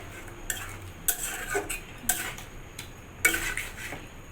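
A spoon stirs a pot of desi chicken curry with whisked yogurt, giving a few sharp metallic knocks and scrapes against the pot at irregular intervals over a soft background hiss.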